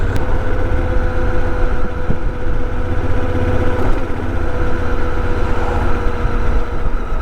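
A motorbike's engine runs steadily and loudly throughout, a continuous low rumble with a dense mechanical drone, with no voices over it.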